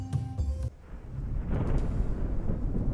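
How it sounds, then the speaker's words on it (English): Thunder in the Ancient Cities video game, a low rumbling roll that swells and lingers after a brief burst of tonal game sound, moderately loud with no talking. "Oh, thunder."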